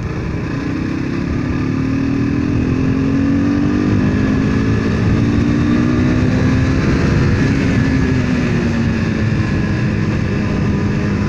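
A steady KTM RC 390 (2017) motorcycle engine drone at close range, its pitch sliding gradually up and then settling lower as the bike leans through a turn.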